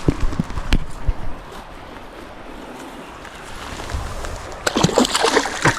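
A fish splashes and sloshes water in bursts, loudest near the start and again toward the end, with a steady outdoor wash of water in between.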